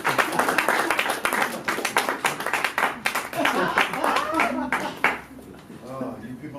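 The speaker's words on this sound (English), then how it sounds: "Welcome to the stage with rousing applause" Audience at a comedy show clapping and applauding to welcome a comedian onstage, brisk close clapping in rapid bursts that thins out toward the end, with voices mixed in.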